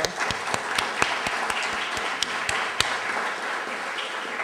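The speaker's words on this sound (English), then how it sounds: "And while we're clapping, how about for all the staff and the other volunteers here?" An audience at a talk gives a short round of applause, with sparse, distinct claps standing out over a steady wash of clapping that fades slightly toward the end.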